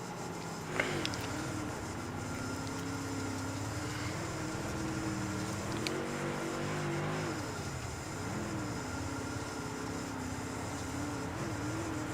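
A dirt kart engine drones steadily through a race on a dirt oval, its pitch rising and falling gently as it holds back from winding out, with a distant rumble of other karts underneath.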